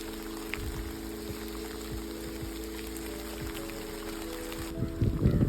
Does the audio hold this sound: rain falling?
yes